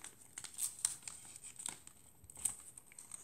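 Paper crinkles and rustles as it is folded into an origami fish, quiet close-up crisp crackles in a few short bursts with soft handling noise between them.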